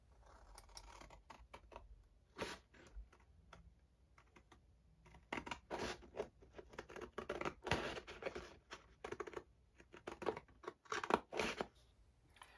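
Paper cut with scissors for a miniature house roof: a series of crisp snips and rustles in uneven bursts, close and fairly quiet, with brief pauses between cuts.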